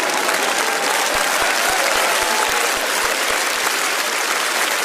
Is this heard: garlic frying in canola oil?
no